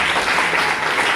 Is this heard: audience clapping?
yes